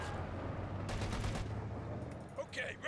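Bursts of .50 cal machine gun fire in a World War II strategy video game match, dense rapid crackle running under a caster's ongoing commentary for most of the clip before fading out.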